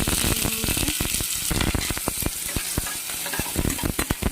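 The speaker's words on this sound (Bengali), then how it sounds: "পেঁয়াজটা হালকাভাবে ভেজে নিয়েছি, বেশি লাল করবো না।" Onion fries lightly in oil with five-spice and a dried chilli, a steady close sizzle broken by many sharp, irregular clicks and scrapes of a spatula against the pan, with no voices.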